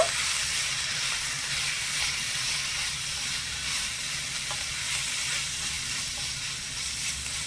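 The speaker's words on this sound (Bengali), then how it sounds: "ভালো করে সব মশলাগুলো দিয়ে একটু কষিয়ে নেব।" Cabbage and spices stir-fry in a pan with salt and a little water, giving a steady, close sizzle and hiss that holds evenly throughout, with faint stirring underneath and no talk.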